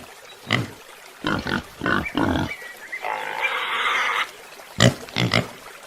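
Pig oinking, a series of short close grunts in quick bursts with a longer nasal squeal in the middle, then two more grunts.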